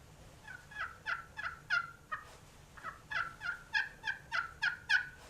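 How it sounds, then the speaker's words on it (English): A slate friction turkey call played with a striker, giving soft, subtle yelps and clucks: a series of short, high, evenly spaced calls in two runs separated by a brief pause, close and fairly quiet, without speech. "That's just me moving that striker around on there to get those very soft, subtle sounds."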